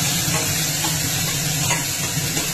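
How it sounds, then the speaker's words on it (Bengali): Ginger paste frying in hot oil for a pointed gourd and prawn dorma, a loud, steady, close sizzle and hiss with no talking. "গরম তেলে এই আদা বাটা দিয়ে দিলাম"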